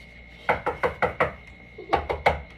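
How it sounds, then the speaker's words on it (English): Knocking on a door, two quick bursts of sharp raps, four knocks then three more after a short pause, moderately loud and close, with no voices. "Knock, knock."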